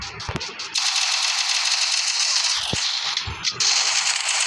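Counter-Strike gunfire comes as a dense rapid stream of shots with a few heavier thuds, loud and continuous with a brief break midway.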